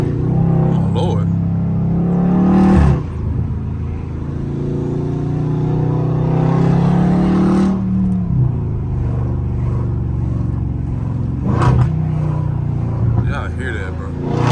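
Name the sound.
Dodge Scat Pack car engine revving in traffic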